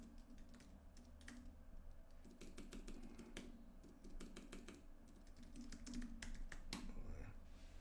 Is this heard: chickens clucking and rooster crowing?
no